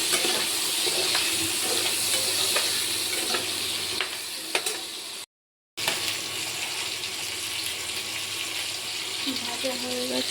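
Vegetables frying and being stirred in a pan, a strong continuous sizzle with occasional scraping, cut by a brief silence midway and a voice near the end.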